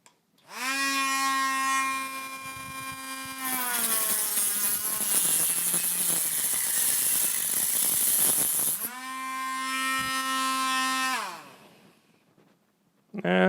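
A Parkside rotary multitool whines at a high steady pitch, and partway through it bites into a metal nail with a harsh grinding screech before dropping back to its free-running tone and then cutting off.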